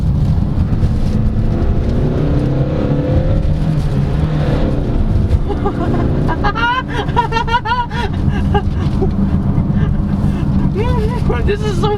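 A 2023 Hyundai Staria Cargo van with a six-speed manual gearbox and an empty load area, its engine accelerating as a loud, steady low rumble with wind noise, while a voice talks over it in the later seconds.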